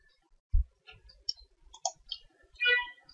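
Computer mouse giving a few sharp, close clicks, the loudest near the start, followed by faint scattered ticks and brief electronic tones.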